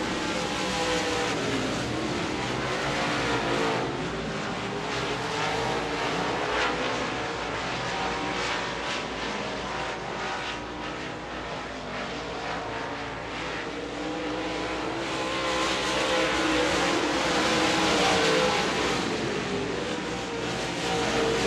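Texas Outlaw Modified race cars roar around the dirt oval at Devils Bowl Speedway, a dense, steady engine drone with rising and falling passes in the last laps, no talking heard.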